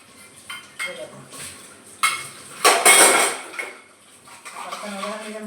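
Steel utensils, pots and pans clank and clatter while being washed in a home kitchen, irregular bursts of metallic knocks and scraping with a louder clattering stretch in the middle.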